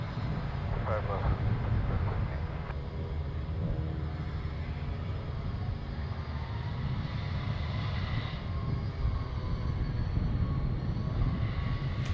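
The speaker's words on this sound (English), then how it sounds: "we got an Alaska 737 right now taking off" An Alaska Airlines Boeing 737 jet takes off at Anchorage airport, giving a continuous low roar that holds steady throughout while people talk over it.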